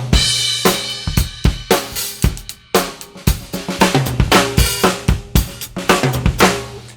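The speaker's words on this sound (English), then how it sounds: "You are hearing the sound of this drum kit through the microphones in this sensor" Acoustic drum kit picked up dry through Yamaha EAD sensor microphones with no effects, recorded at a NAMM 2018 show demo. Loud, close kick, snare and cymbal hits come in a steady groove throughout with no talking.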